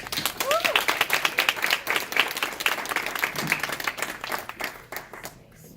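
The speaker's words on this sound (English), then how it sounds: "So if we can give a round of applause" A conference audience claps in a round of applause, crisp individual claps forming a lively, uneven patter that stays strong and then thins toward the end, with voices and a brief cheer mixed in.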